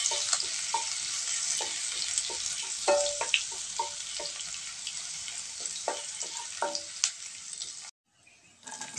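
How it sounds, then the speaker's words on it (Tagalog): Garlic sizzles steadily in hot oil in a pan, a loud, close frying hiss broken by stirring clicks and scrapes, cutting off abruptly near the end. "Sa mainit na kawali ay maglagay ng mantika. Kasunod ay bawang."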